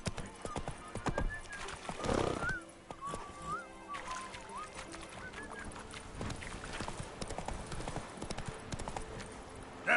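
Horse hooves clop rhythmically at a gallop in The Witcher 3 open-world game, steady and fairly close, with a whinny and scattered game ambience and a voice talking over them.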